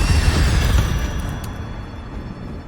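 A fiery Incendio spell bursts in the Hogwarts Legacy video game, a loud deep rumbling blast that fades slowly over a couple of seconds.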